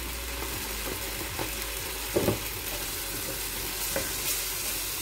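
Ginger and turmeric fry in a pan with a constant steady sizzle, while a spoon stirs through them and scrapes the pan a few times.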